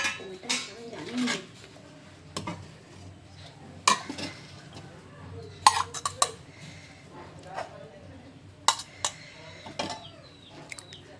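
Dishes, pots and cutlery clink sporadically while home-cooked food, including prawn curry, is served, with sharp scattered clatters and lid knocks under intermittent speech.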